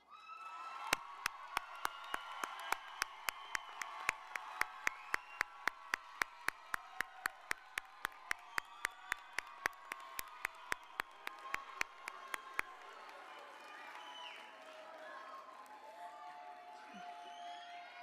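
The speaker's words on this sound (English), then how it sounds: "Graduates, please turn and face the audience for a round of applause." Graduation audience at a Unitech Fall 2021 ceremony claps in a steady, sharp rhythm for about twelve seconds amid cheering and shouting. The claps then stop, leaving the crowd noise to fade.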